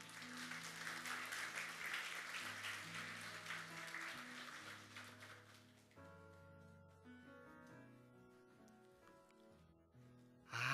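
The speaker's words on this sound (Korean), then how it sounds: "여러분 박수로 한번 맞아주세요." A church congregation applauds during a Sunday service, steady clapping for about six seconds over sustained organ or keyboard tones, then fading out as the music continues quietly alone.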